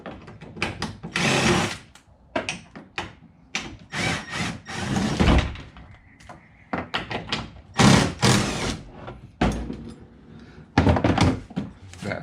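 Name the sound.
car front door being opened and removed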